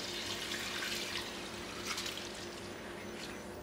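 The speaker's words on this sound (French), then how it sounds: "Et ensuite je vais rajouter le bouillon." Broth poured into a pan of buttered quinoa for a risotto-style dish, a steady close liquid pour with continuous splashing and no talk.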